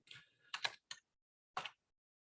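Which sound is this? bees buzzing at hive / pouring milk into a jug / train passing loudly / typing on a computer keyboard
typing on a computer keyboard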